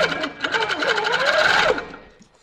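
A sit-down Capri longarm quilting machine stitches at about 12 stitches per inch, producing a close, steady mechanical whir that shifts slightly in pitch for about two seconds and then winds down and stops.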